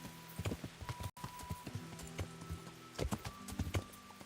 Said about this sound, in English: I should get on my horse and chase after